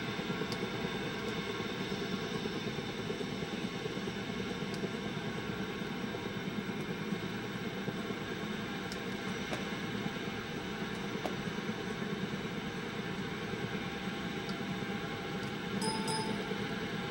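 A helicopter in a Minecraft storm gives a steady, low mechanical drone under continuous hissing rain, even and unbroken throughout with no talking.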